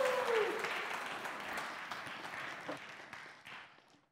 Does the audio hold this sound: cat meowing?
no